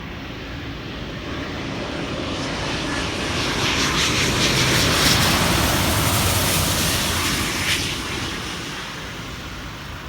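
Airbus A350-1000 jet engines in reverse thrust after landing on a visual approach into the Caribbean, a loud broad roar that swells in the middle and then eases off, heard alone.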